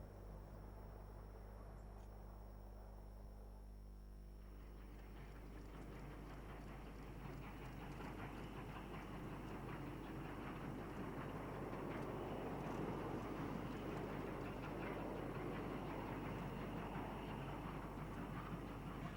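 A steam-hauled train behind a 19C class locomotive, number 2439, rumbling past with a low steady roar that swells from a quieter start into dense rolling wheel and carriage noise, close by and without talk.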